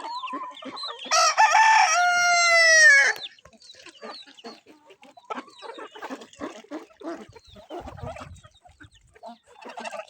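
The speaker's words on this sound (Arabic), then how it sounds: "طبعا هذا ديك،" A rooster crows once, loud and close, then chickens keep clucking in short, scattered bursts, with no talking.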